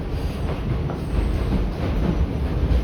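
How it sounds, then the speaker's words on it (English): New York City subway D train running on the F line toward Coney Island–Stillwell Avenue, a steady close rumble of wheels and car noise throughout, with no talking. "this D train is on the F line"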